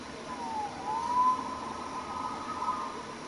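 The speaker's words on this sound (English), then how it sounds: "Saved by the siren." An emergency vehicle siren wails faintly in the distance, its tone rising and falling over about three seconds beneath a low background hum.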